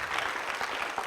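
A brief, fairly soft patter of audience clapping rises from a crowd at a heated discussion among young people about political parties.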